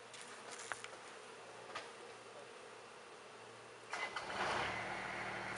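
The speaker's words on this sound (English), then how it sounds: "We made this bee sanctuary. Can you hear them?" Bees from full hives in a garden bee sanctuary give off a faint, steady buzz that swells slightly toward the end, heard alone without speech.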